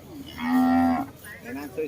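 A water buffalo at a busy livestock market gives one long, deep moo, loud and fairly close, followed by softer lowing sounds toward the end, with no speech over it.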